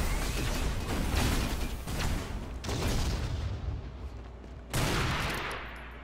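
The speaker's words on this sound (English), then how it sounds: "taking some guesswork pot shots with the sniper" Sniper rifle fire in an Unreal Tournament 4 duel on the DM-ASDF map: loud, sharp shots with a dense, noisy game soundscape between them, one heavy blast near the start, another around the middle and a third toward the end.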